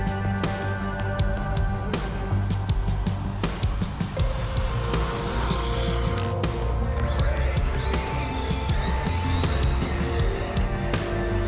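An RC10B4 radio-controlled car runs with its electric motor whining, rising and falling as the throttle opens and closes through snap oversteer on an evening run, loud and continuous with sharp transients in the middle.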